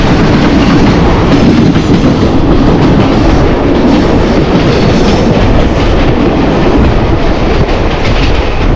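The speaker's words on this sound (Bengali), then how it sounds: "আমাদের ট্রেন আদ্রা জংশন থেকে ছেড়ে দিল।" The Howrah–Ranchi Intercity Express runs after leaving Adra Junction, with a steady loud roar of wheels on rails and faint clickety-clack, heard alone.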